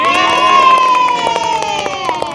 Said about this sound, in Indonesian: Tepuk tangan dong buat Kak Anggi.